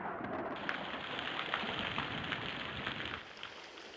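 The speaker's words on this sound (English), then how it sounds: "it's pouring rain" Heavy rain pours steadily, a dense hissing wash with scattered close drops spattering, and low rumbling underneath, fairly quiet overall and easing slightly toward the end.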